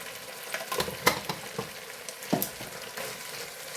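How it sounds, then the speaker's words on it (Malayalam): Chicken fried rice with pepper powder being stirred in a hot pan, a steady sizzle punctuated by irregular spatula scrapes and knocks, loudest near the start and middle, with no talking. "ഇനി നന്നായി ഒന്ന് ഇളക്കി കൊടുക്കുക."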